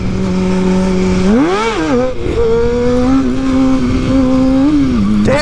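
Motorcycle engine held hard in second gear during a street wheelie, a loud, close, continuous rev whose pitch swoops up and dips, then settles into a steady high drone for the rest of the stretch.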